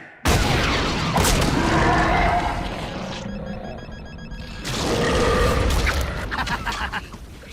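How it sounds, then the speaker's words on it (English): Smart bombs blast in a Transformers cartoon battle, a loud roaring burst of explosions that dips briefly into a thinner rumble before a second heavy wave of booming detonations. "Smart bombs. They really pack a punch."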